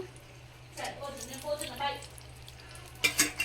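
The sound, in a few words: coriander seeds frying in hot oil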